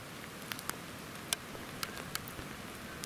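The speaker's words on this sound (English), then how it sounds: "a storm came through bringing plenty of rain and lots of wind" Rain patters on a camp in the wild during a storm, a steady soft hiss broken by scattered sharp drops striking nearby surfaces.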